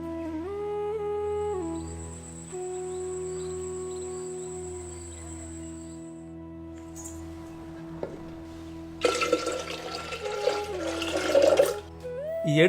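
Water pours into a pot holding five country chicken eggs set to boil, a loud rushing splash arriving after a long stretch of quiet steady hum, with no talking.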